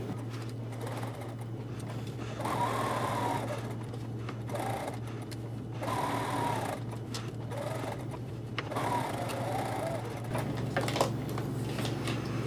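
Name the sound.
sewing machine stitching along a marked line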